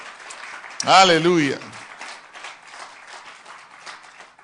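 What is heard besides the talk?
congregation applauding in church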